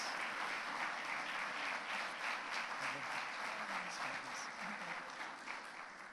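Church congregation applauding in praise of the Lord during a morning service, a continuous, dense wash of clapping from many people, fairly distant and soft, easing slightly toward the end.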